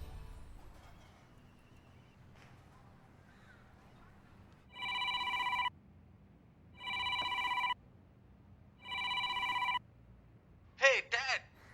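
A telephone rings on a call placed to a father in a Hindi comedy TV series: three evenly spaced, bright electronic ring bursts over a quiet room, followed by a short warbling tone.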